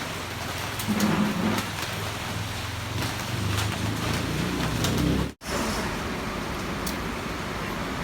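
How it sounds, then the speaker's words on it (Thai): Steady rain falls with a constant hiss and patter, close and moderately loud, with a brief cut in the sound partway through. "ฝนตกครับไปไหนไม่ได้เลยครับวันนี้"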